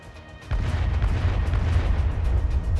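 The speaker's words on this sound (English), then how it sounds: "Kichisei is sending explosions everywhere with her grenades" Grenade blasts in a voice-acted Arknights battle scene break out as a heavy rumbling boom, then a sustained loud, crackling roar of continuous explosions.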